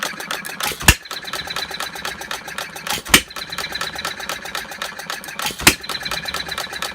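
A half-scale Breisch Olds hit-and-miss gas model engine running very slowly, with steady fast mechanical clicking and clattering broken by a sharp firing pop roughly every two and a half seconds, close and clear.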